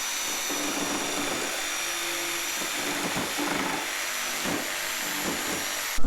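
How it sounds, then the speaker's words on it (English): An orbital sander works over a wooden board for a homemade blanket ladder, a steady close whirring hum held throughout with a brief louder bump at the end. "I'll finish it with the sander."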